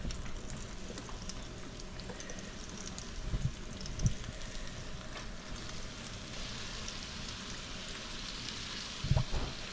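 Cauliflower pieces fry in about half an inch of vegetable oil, a steady close crackling sizzle with occasional louder pops and bumps.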